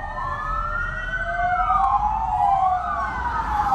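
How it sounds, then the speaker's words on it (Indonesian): Several fire engines pass outside with wailing sirens, rising and falling tones overlapping and sweeping loudly, with low traffic rumble beneath. "Oh, ada pemadam kebakaran."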